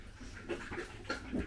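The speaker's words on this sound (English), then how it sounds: "I apologise for the noise, but my dog Bo is a bit" Dog panting and whimpering indoors in a home kitchen, faint, quick breathy pants with soft whines, close by.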